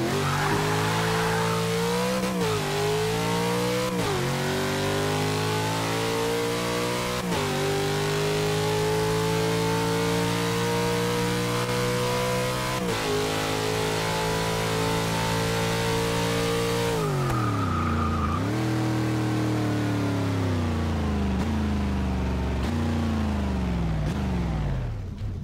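A car engine in Forza Motorsport 6 revs hard through repeated climbing pitch sweeps while drifting, with a loud continuous roar and brief tire squeal, alone throughout.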